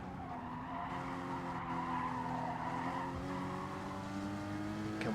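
A race car in a racing game snaps into oversteer, with tires skidding and squealing over a steady engine roar, loud and close throughout.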